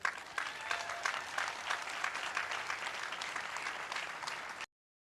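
A crowd at the opening of a school for at-risk youth applauds steadily, dense clapping held at an even level for several seconds before it cuts off abruptly into silence, with a speaking voice faintly underneath.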